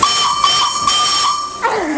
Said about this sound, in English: I am about to pull the whistle and it looks like fun